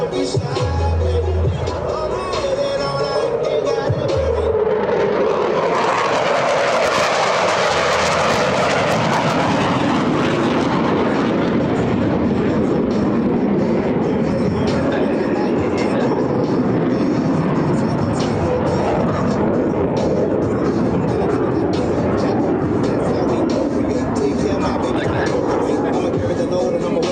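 US Navy Blue Angels jets roar past at an air show, a loud building rumble that peaks around the middle and stays as a broad, sustained roar while an announcer talks over it.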